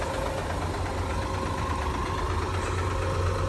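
A 2016 Hino Victor 500 truck's diesel engine runs steadily at idle, a loud, continuous low rumble with a faint knocking pulse and no talking.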